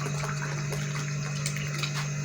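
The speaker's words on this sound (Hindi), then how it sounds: "बिरयानी के लिए हमने पानी डाल दिया।" Water poured into a cooking pot for chicken biryani: a steady, continuous liquid rush over a constant low hum, with no talking.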